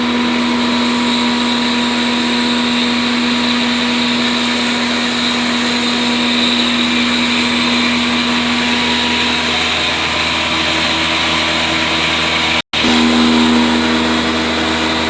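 A solar-powered atta chakki wheat grinder motor runs at a loud, constant drone with a steady hum and whine, broken by one sharp momentary dropout before resuming.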